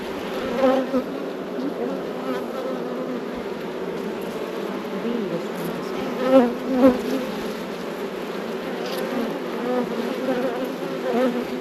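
Honeybees buzz steadily around an open hive during an inspection, a dense close drone that swells briefly in a few louder passes as bees fly near.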